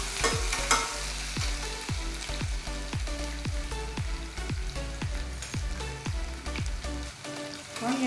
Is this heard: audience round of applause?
no